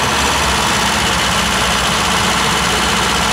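A Peugeot car engine with a carburetor idles with its choke closed, a loud, steady, close rumble with continuous vibration and no pauses, without talk.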